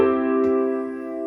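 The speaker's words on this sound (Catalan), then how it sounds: "Aquí té totes les tecles del piano." A sustained piano chord or note rings out with steady harmonic tones, fading slowly, with a soft brief knock partway through; no talking.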